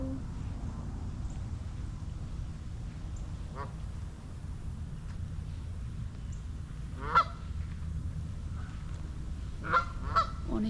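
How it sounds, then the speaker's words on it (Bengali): Ducks or geese on the lake at Hafer Park in Edmond, Oklahoma give a few scattered honks and quacks, mostly around the later seconds, over a steady low outdoor rumble, moderately distant. "এখানে প্রচুর পরিমাণ হাঁস রয়েছে যে হাঁসগুলো প্রতিনিয়ত এই লেকে শাওয়ার করে"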